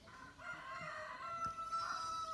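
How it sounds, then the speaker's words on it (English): A rooster crows among a flock of backyard chickens, a sustained, strained call that carries across the whole short stretch at steady loudness, with a fainter second crow or cluck mixed in. "You know, these are roosters."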